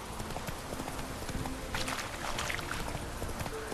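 A horse being ridden in the video game The Witcher 3, its hooves clip-clopping in a steady continuous trot, loud and close over dense game ambience.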